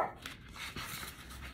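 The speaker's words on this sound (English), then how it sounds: "Could you guys zip it with your barking?" Small dogs panting and whimpering indoors while a person does crafts, a faint, close, breathy sound of brief duration with no clear barks.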